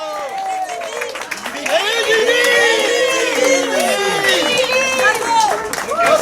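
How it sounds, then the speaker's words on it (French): Crowd applause and cheering at a disability-association spring concert, loud and sustained for several seconds, with claps and shouting voices blending into a dense, rising roar. "On peut leur faire un tonnerre d'applaudissements."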